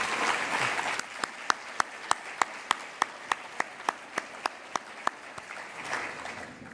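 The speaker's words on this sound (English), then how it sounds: "let's give them another round of applause" An audience at an awards ceremony applauds honored students, soft steady clapping from the room with a sharp, regular set of louder claps standing out near the microphone.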